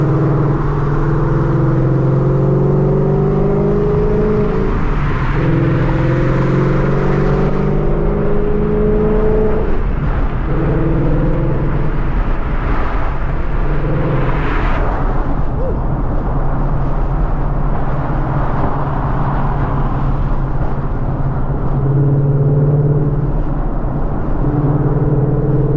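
A 2014 Ford Mustang GT V8 on drag tires pulling hard, loud sustained engine roar rising in pitch through repeated gear pulls, with brief dips at shifts, heard from inside the car.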